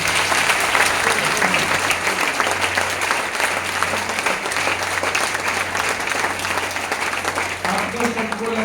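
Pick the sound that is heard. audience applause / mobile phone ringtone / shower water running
audience applause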